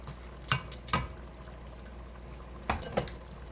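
Corn added and stirred into a simmering okra, tomato and beef stew with wine, heard as a few faint soft clacks and scrapes of a spoon in the pot over a quiet background, with no talking.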